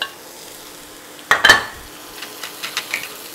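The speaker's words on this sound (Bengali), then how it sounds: "এবার ভালো করে নেড়ে সব মিশিয়ে দেব" Marinated boneless beef and masala for tandoori beef biryani are stirred in a pan, a quiet sizzle broken by a loud clattering scrape, then several lighter utensil knocks and stirs, no speech.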